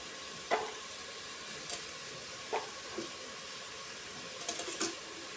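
Onions sautéing in a pan for a Kerala-style mutton curry, with a faint steady sizzle under occasional stirring scrapes and clinks of a spoon against the pan.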